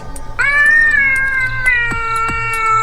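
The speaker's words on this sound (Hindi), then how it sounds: "पास के बरगद के पेड़ से एक बिल्ली की जोर से रोने की आवाज आई" A cat lets out a loud, drawn-out yowl with a wavering pitch, rising sharply at the start and trailing off with a couple of shorter cries.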